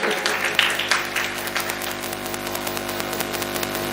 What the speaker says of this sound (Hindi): एक बार मुझे ताली बजाकर इजाज़त दे दें